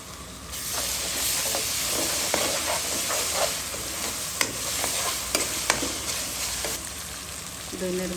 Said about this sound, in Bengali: তো ভাজা ভাজা হতে থাক। আদা রসুনের পেস্ট দিয়ে দিলাম।